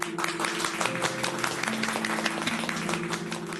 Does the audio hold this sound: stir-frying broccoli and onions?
no